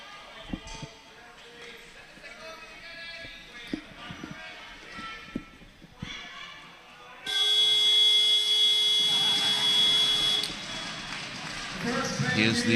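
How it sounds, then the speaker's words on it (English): A loud, steady electronic buzzer sounds for about three seconds, ending the first half of a powerchair hockey game in an indoor arena, with sharp thuds and squeaks of play and talking before it. "Here's the final buzzer of the first half."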